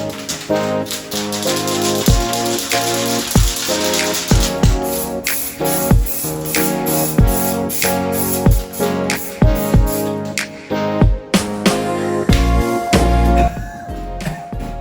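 Short bursts of aerosol spray paint hiss onto an engine oil pan, repeated in quick pulses with brief gaps, close and fairly loud, with no talking.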